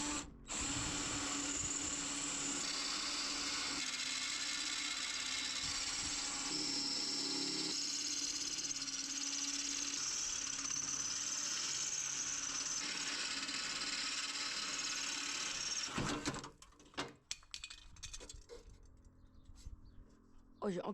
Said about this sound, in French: C'est-à-dire la perceuse.